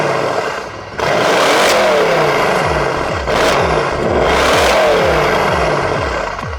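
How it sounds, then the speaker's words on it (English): A 2016 Mercedes-AMG C63 S in Comfort mode revs repeatedly, loud close engine bursts rising and falling in several swells over a steady idle, heard alone. "now let's check out what the 2016 C63 sounds like. I'm gonna do revs in Comfort first,"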